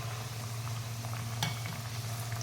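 Kachori frying in hot oil over a medium flame, a steady soft sizzle with a low bubbling hum throughout and one brief sharper crackle partway through, no voices.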